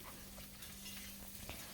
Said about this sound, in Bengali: আগে মাছ ভাজাটা বসিয়ে দিচ্ছি